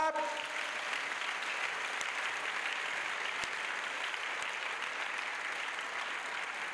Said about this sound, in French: A clap.